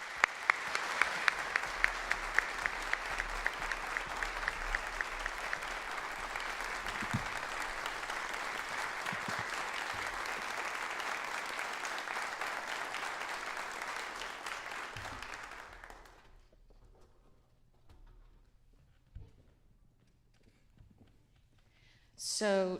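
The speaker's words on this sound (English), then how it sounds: "give them a round of applause" An audience at a young chamber musicians' competition applauds a trio, with brisk, dense clapping that starts strong, then tapers off at around fifteen seconds, leaving a quiet room with a brief voice at the end.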